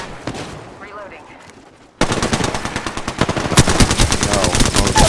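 Automatic weapon fire in the battle royale shooter Apex Legends: after a quieter stretch with scattered sounds, a loud, sustained burst of rapid shots takes over, close and continuous to the end.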